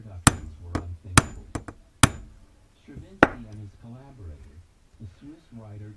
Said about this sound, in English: So hitting it with the hammer is a great thing to do, unless you fuck up your carbs.